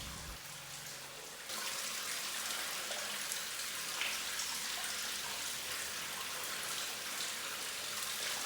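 Steady rain falling outside a house in the afternoon, a soft continuous patter and hiss that thickens after the first moment and carries on evenly with no voices.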